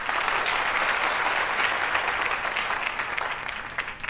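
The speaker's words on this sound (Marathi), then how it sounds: "तर सगळ्यात आधी टाळ्या वाजून स्वागत करूया सनीचं" An audience on a stage show claps steadily in welcome, a dense, even wash of applause that holds for several seconds and then thins slightly at the end.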